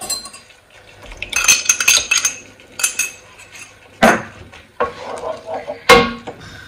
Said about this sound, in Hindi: ये देखिए, ये पूरा का पूरा हिलाते रहना है ताकि ये सारे गांठे ये सारे चले जाएंगे।